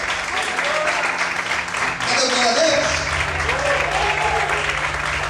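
Congregation applause during a Portuguese-language church sermon, a dense wash of clapping that swells after the first couple of seconds, with voices speaking and calling out over it.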